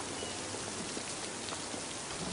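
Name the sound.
heavy rain falling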